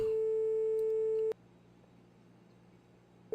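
A phone ringback tone in the video game My Winter Car: a single steady electronic beep lasting over a second, a long gap of silence, then the next tone beginning, clear and alone.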